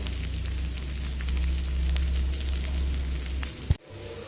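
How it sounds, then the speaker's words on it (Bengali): Spices sizzle steadily in a hot pan with chopped onion, salt and turmeric while a potato and minced-meat curry is being made; the even frying hiss runs throughout, then ends with a brief clunk and a sudden drop in sound. "দেখুন মশলাগুলো ভাজা ভাজা হয়ে এসছে"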